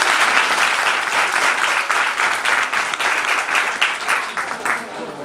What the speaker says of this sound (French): Vous voyez comment on applaudit encore.